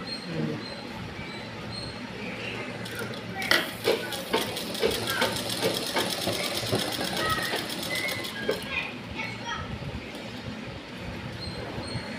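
Sewing machine stitching a round pillow, a steady rapid needle chatter that rises into a dense run of stitching in the middle, close and continuous.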